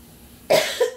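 A single sharp cough from a person, close and loud, with a smaller second burst trailing right after.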